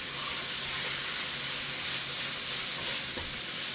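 Pork fried rice with a squirt of barbecue sauce hisses and sizzles steadily in a hot pan while being stirred, a loud continuous frying crackle with faint scraping, no voices.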